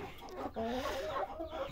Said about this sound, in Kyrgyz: Жерси гиганттар. Тооктордун асылдарынын бири ушулар экен.